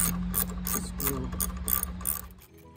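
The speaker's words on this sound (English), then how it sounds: "And this is the one we need to also unscrew, and we would use the same screw." A hand ratchet clicks rapidly and steadily while unscrewing a bolt on a Metalcloak bracket for an ARB dual compressor install, close and moderately loud, slowing and stopping near the end.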